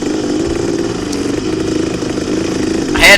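A big bore dirt bike engine drones loud and steady through a cross-country race, its mid-range buzz holding throughout before a brief sharp surge at the end.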